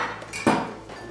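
Cooking pot lid handled in a toy kitchen while making semolina halva, a single brief metallic clink close by against a quiet background.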